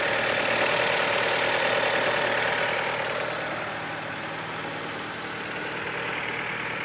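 A Fiat Liberty engine idles with coolant circulating, a steady, loud and continuous mechanical drone with a broad, even hiss that stays constant with no talking over it.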